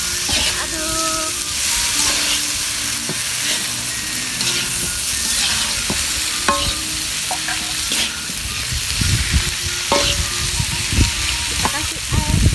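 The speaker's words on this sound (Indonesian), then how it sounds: "Aduk." Tempeh, salted fish and eggplant sizzle steadily in a pan while a utensil stirs and scrapes through them in a near, loud cooking scene. Brief speech is heard in places.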